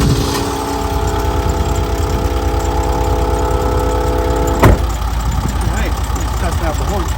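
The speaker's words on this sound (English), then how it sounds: "I'm going to start the engine." A quad ATV engine runs at idle with a steady, loud, mid-pitched drone and a continuous low rumble, while a voice talks over it and a brief sharp click occurs near the middle.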